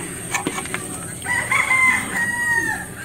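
A rooster crows once, a long drawn-out call at moderate distance, with faint clucking and background ambience around it.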